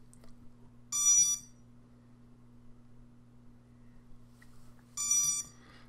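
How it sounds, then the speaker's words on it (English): Lost-drone beacon set through BLHeli Configurator chirps in two short, shrill bursts of high beeping about four seconds apart, over a faint steady low hum in a quiet room. "you can hear the beacon going off."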